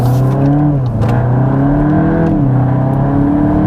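A Mk8 Golf GTI Clubsport engine at full throttle, heard loud and close from inside as its revs climb, dip briefly at a gear change, then climb again in a strong, continuous drone.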